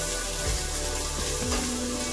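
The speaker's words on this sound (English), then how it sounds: "So my onion, garlic, and ginger are frying up nicely." Steady, broadband sizzling of onion, garlic and ginger frying in a hot pan, continuous and fairly close, with faint low knocks underneath.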